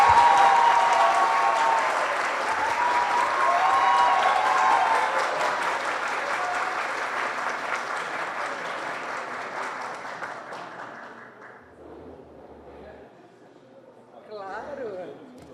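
An audience at an award ceremony honouring a university business-course coordinator breaks into loud, sustained applause that gradually thins and fades out, with a short burst of clapping near the end.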